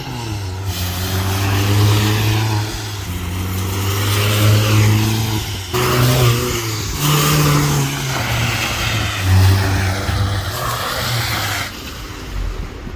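A Ford Fiesta fitted with a new resonator pipe exhaust revs repeatedly, with loud, close engine surges that climb and drop in several bursts over steady running.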